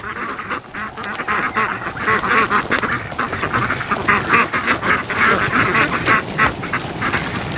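A whole flock of ducks quacks continuously and loudly at close range, a dense overlapping chorus of calls as they are herded home from the lake on a cool morning.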